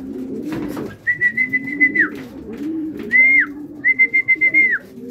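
Racing pigeons returning to the loft after the final lap of a five-lap fun race coo in low rolling phrases throughout, while a higher whistled tone cuts in three times from nearby.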